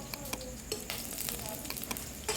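Garlic and chili frying in oil in a kadhai over high flame, a dense crackling sizzle with frequent stirring clinks and scrapes, close up and without speech.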